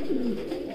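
Fancy pigeons at a pigeon farm in Natore give a single soft, low coo, close and alone against a quiet background.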